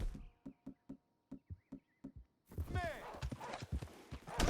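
Horse hooves clip-clop in Red Dead Redemption 2, a steady run of crisp near hoofbeats, then a whinny and snorting as the sound grows denser and busier.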